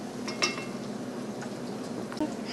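Quiet kitchen clatter as an apple fritter is turned in a frying pan with a wooden spoon, a few soft clinks and scrapes over a low steady sizzle, with one sharper knock near the end.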